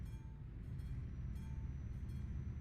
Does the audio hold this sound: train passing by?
yes